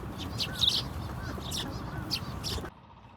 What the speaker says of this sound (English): Little warblers, I think.